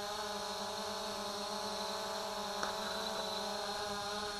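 A Hubsan H501C drone's motors hold a steady, even buzzing whine while it hovers, a continuous tonal hum at moderate level with no talk over it.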